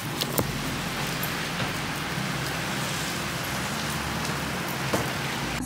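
Rain falls steadily outdoors in the Netherlands, a dense even patter with a low traffic rumble underneath and a couple of sharper drips.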